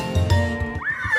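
A horse whinnies once, a short, bright neigh that rises and falls, heard clearly and close with no talking.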